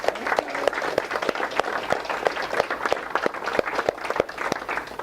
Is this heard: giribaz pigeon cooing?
no